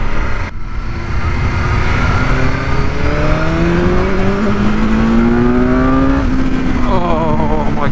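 A 2021 BMW S1000R motorcycle engine winds up hard through the revs, rising pitch sweeping upward across repeated gear pulls, loud and close with wind noise, no talking.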